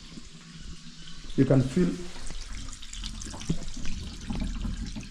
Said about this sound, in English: the water flowing